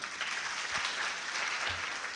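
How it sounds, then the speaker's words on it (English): An audience at a formal gathering applauds steadily for a couple of seconds, a dense, even wash of many hands clapping at moderate loudness with no voices over it. "Let us give them the last hand clap."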